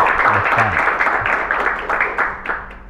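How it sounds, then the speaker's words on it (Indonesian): Applause from a student audience at a Ramadan Islamic talk in an Indonesian school setting, dense steady clapping filling the room with voices mixed in underneath. "tepuk tangan buat Tanggul"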